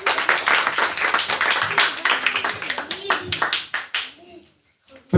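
A Baptist church congregation claps for Jesus in a lively, uneven burst of close, sharp handclaps that thins out and fades toward the end, with voices and brief cheers mixed in.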